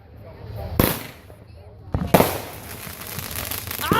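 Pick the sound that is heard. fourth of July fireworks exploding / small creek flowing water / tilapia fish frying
fourth of July fireworks exploding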